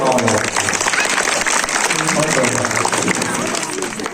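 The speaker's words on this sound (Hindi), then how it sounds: "एक बार जोरदार ताली बजा" A crowd claps loudly and steadily, dense applause filling the space with a murmur of voices underneath.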